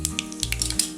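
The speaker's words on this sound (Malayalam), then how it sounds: "ഓയിൽ ചൂടായതിനു ശേഷം 1/2 ടീസ്പൂൺ കടുക് പൊട്ടിയതിനു ശേഷം 1/2 ടീസ്പൂൺ പെരിഞ്ചീരകം" Mustard seeds and fennel seeds splutter in hot oil while a moong dal curry is cooked, giving a soft sizzle punctuated by irregular small pops and crackles, close up with no talk.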